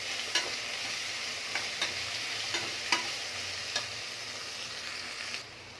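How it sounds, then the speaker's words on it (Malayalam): Vegetables sautéing in a pan for veg biryani, a steady soft sizzle broken by several sharp scrapes of stirring at uneven intervals, close and without voices. "ഇതൊന്ന് വഴറ്റി എടുക്കണം. ഒരു അരഭാഗം വഴറ്റി എടുത്താൽ മതി."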